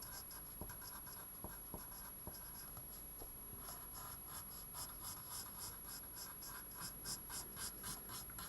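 Pen or pencil writing by hand on paper, a soft continuous scratching with short strokes and occasional taps, close and quiet, with no talking.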